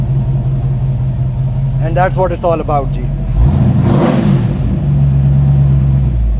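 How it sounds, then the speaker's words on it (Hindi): An American V8 car engine rumbles at idle and then revs up and settles back, loud and close, while someone talks over the first part. "there is a natural, very American sounding rumble from that V8"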